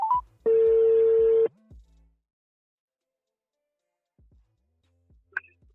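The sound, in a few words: telephone number being dialed for a prank call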